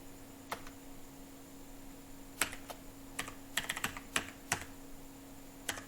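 Keys tap on a computer keyboard while an India Post recruitment form is filled in. The clicks come in scattered bursts over a quiet, faint hum, with no talking.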